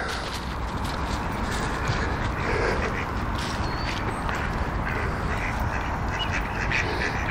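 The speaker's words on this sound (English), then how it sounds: "Morning, ducks." Ducks quacking outdoors, repeated calls over a constant broadband background of wind or rustle, fairly close and steady throughout.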